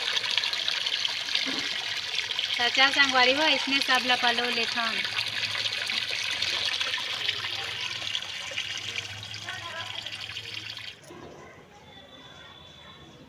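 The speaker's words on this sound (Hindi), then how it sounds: "ये बाल्टी मन में पानी भरबो संगवारी हो।" Tap water runs and gushes into a plastic bucket during household chores, a steady pouring wash that fades near the end, with someone speaking over it.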